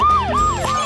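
An ambulance siren gives three quick, loud up-and-down wails in under a second, sharp and near.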